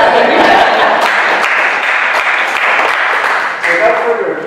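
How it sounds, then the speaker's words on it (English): An audience at an interfaith gathering in Central Texas gives a round of applause, loud and sustained with individual claps standing out, voices mixed in, before it eases slightly near the end. "Give them a round of applause"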